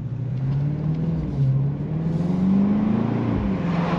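A BMW X5M SUV's engine while driving: a steady, loud, close droning rumble whose pitch climbs slowly and smoothly, heard from inside the cabin with no talking.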